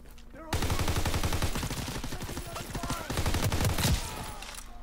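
Sustained automatic gunfire in the online shooter Call of Duty WW2, with rapid, loud, closely spaced shots in long bursts and a brief pause before the firing resumes.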